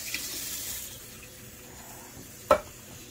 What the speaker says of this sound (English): I will teach you how to rinse the rice, darling.